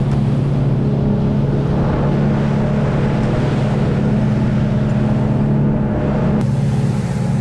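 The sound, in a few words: boat engines heading back to shore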